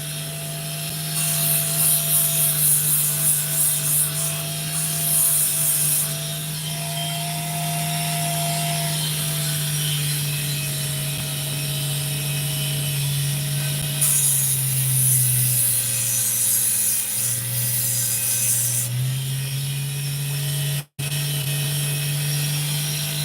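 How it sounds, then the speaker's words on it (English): A Dremel rotary tool cutting and shining opal, a steady close motor whine with shifting grinding hiss as the bit bites into the stone in bursts, running continuously before a brief cut-off near the end. "Dremel is detracting from the general ambience of the..."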